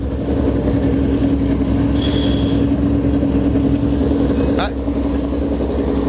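NASCAR Cup car engines rumble at idle in the Darlington Raceway garage, a steady low drone close by, with someone talking over it.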